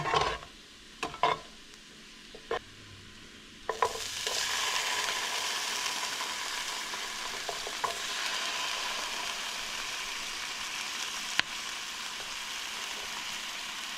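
A few spoonfuls of canned beans drop into a hot pan after a few sharp clanks, and a loud steady sizzle follows with occasional utensil knocks and stirring scrapes, no one talking.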